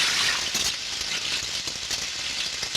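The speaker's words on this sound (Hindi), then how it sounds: "पानी की आवाज होगी" Rushing, splashing water fills the whole stretch, loud and steady with rattling, gushing texture.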